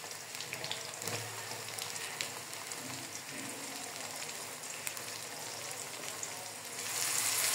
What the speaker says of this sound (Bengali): পেঁয়াজ কুচি লাল করে ভেজে নিব